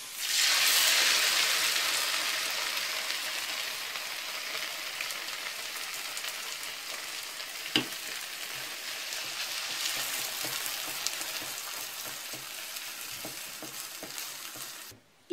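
A mixture with tomato juice hits a hot frying pan and sizzles loudly at first, then settles into a steady softer crackle with a few clinks and scrapes, heard up close with no voices.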